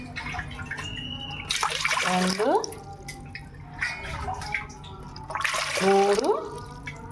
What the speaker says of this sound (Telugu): 4 కప్పులు వాటర్ పోసుకోవాలి.